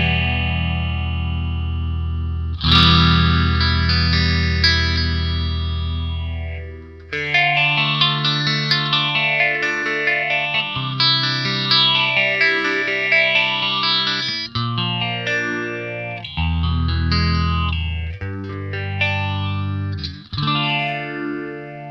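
An electric guitar runs through a PastFx rotary phaser pedal with the feedback turned up, giving a loud, sweeping, swirling tone over sustained chords and riffs, with no voices.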